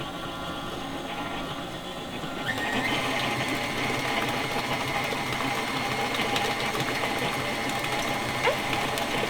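A stand mixer churns banana bread batter, its motor stepping up to a louder steady mechanical whir with a rhythmic grinding rattle, close and continuous with no talking.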